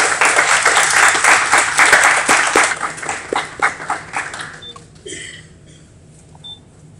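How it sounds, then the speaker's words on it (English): A crowd claps loudly in steady applause at a National Technical Signing Day ceremony, then thins out and fades to scattered claps and quiet, with a couple of faint electronic beeps toward the end. "Let's give her a round of applause."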